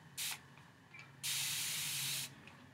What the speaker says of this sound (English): So with this one, I'm going to do the actual continuous spray because that's what's really cool about this